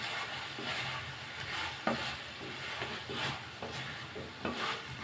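A spoon stirs chicken fry in a pan, scraping in a rhythmic way over a faint sizzle. The sound is close and soft, with a few sharper knocks.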